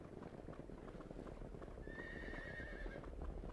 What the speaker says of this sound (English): Come on, horse, teleport to me.